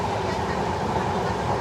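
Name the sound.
Padatik Express train running on the rails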